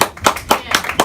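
An audience at a children's insect science show claps in a quick, loose rhythm, with about five sharp, close bursts over roughly a second.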